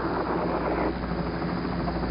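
A helicopter recovering the Apollo 11 astronauts beside the recovery ship Hornet gives off a loud, continuous rotor and engine drone, steady and close, with no speech over it.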